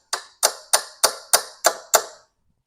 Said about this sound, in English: that's the sound of that mount hitting our cross member.